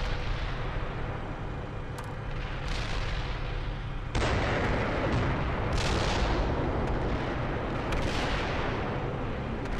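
Tank cannon rounds and gunfire boom through a military combat game during a fighting withdrawal, several heavy blasts over dense continuous battle noise, loud and close throughout.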